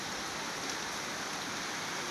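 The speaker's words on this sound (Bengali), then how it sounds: "উপর থেকে বৃষ্টি পড়তেছে পাতার উপরে" Rain falling from above onto leaves outside a window in Bangladesh, a soft, even, continuous patter with no distinct drops standing out and no voices.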